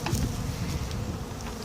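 Honey bees from a swarm inside a heavy cardboard hive box, giving a dense continuous buzzing hum, close and steady throughout.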